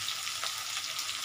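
Fresh green and red chillies frying in a pan of oil while cooking a pabda fish curry, a soft, steady crackling sizzle heard close and alone for a brief moment.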